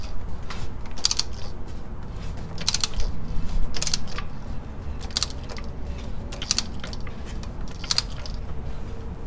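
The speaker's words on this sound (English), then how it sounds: "Grab your 19mm socket until you hear a click" A 19mm socket on a ratchet works the timing chain tensioner of a Toyota 2ZZ engine in a Corolla or Matrix, giving a steady series of sharp metallic ratcheting clicks at roughly one-second intervals over a low mechanical hum.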